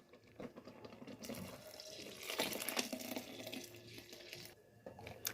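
Boiled milk poured from a kilo batch into a pot of cooking rice for rice pudding, a steady liquid pour rising and splashing for several seconds before tapering off, with no talking.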